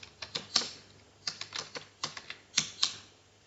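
Keys tapped on a computer keyboard while entering figures into an office report form, a quiet, irregular run of about a dozen light clicks with brief pauses, close and alone with no talking.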